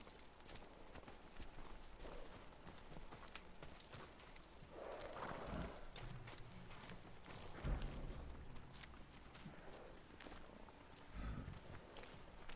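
Horse hooves clip-clopping in the Ghost of Tsushima video game, a faint, steady run of hoofbeats over a soft background wash, with no talk.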